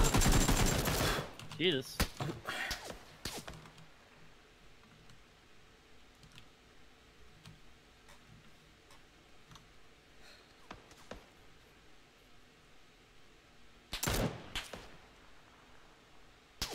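Bursts of PUBG gunfire crack loudly at the start and again near the end, with scattered single shots and quiet keyboard clicking in between and a brief spoken exclamation.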